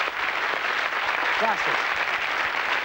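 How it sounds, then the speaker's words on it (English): Studio audience applause on a 1981 game show, sustained even clapping from the crowd with a brief spoken word from a voice heard over it midway. "Give him a round of applause, folks."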